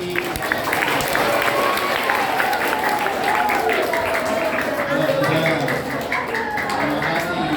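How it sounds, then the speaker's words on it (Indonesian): A school class of sixth graders claps for Bu Novi after her talk on puberty, a lively, sustained patter of many hands with crowd noise mixed in and some voices over it. "Aplaus dulu untuk Bu Novi."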